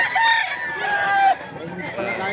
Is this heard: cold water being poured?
no